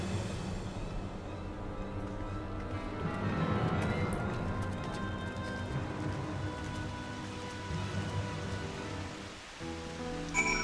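Steady in-game rain in Final Fantasy XIV: Dawntrail hisses throughout, even and moderately loud, with a soft musical tone and faint hoof-like clopping underneath.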